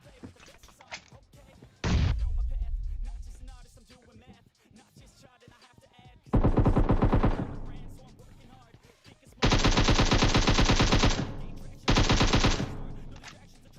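Bursts of rapid automatic gunfire in PUBG Mobile, loud and close, with one short burst early and long sustained volleys later, separated by quieter stretches.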